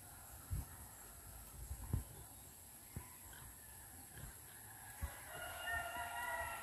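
Native chickens kept in a backyard flock, crowing and clucking at moderate distance in a series of short, scattered calls, with a steady high-pitched drone and faint background sounds.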